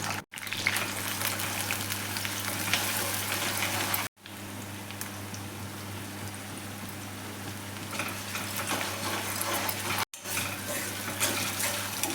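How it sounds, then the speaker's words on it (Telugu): Green chilies, onions and ginger-garlic paste frying in oil for a chicken fry, a steady loud hissing sizzle with a low hum beneath, broken by two brief silent cuts, no talk. "1 టీ స్పూన్ అల్లం వెల్లుల్లి పేస్ట్ వేసి బాగా వేయించాలి"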